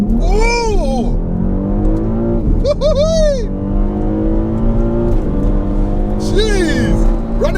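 A remapped family car launches hard on a quarter-mile run, its engine revving up through rising gear pulls with sharp shifts between them, loud and close from inside, with excited voices talking over it.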